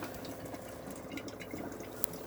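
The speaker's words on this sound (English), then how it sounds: "it does take a few minutes, as you can see, for this water system to fill." Water running steadily into a caravan's onboard water system through the tap, a continuous low gurgling fill at moderate level with no talk, ending in a brief sharp click.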